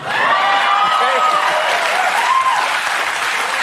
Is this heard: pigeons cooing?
no